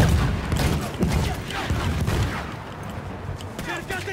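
Dense gunfire and scattered explosions from a Battlefield battle rattle continuously, bursts and booms layered over each other, with voices talking and shouting through the din.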